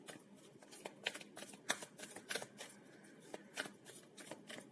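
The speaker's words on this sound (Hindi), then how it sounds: "चलिए पहले कार्ड्स निकाल लेते हैं।" Tarot cards are shuffled close by in a series of soft, crisp riffles and slaps, with no talk over them.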